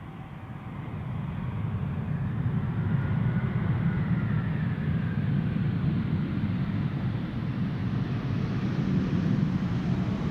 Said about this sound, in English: Iberia Express flight 3722 arriving from Madrid